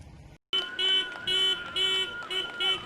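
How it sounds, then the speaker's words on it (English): Several car horns honk repeatedly in overlapping bursts from a procession of cars at a high school graduation, a steady rhythm of bright toots, fairly loud with a low background hum. "a procession of cars honoring the hard work of the class of 2020"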